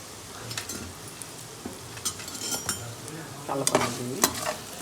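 Cut chana dal dhokla pieces are gently tossed in a pan with turmeric and chili powder: soft, close scraping strokes of a spoon with light sizzling, growing slightly busier toward the end.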